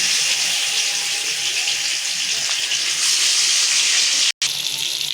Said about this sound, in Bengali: তেলটা গরম হয়েছে মাছটা দিয়ে দিলাম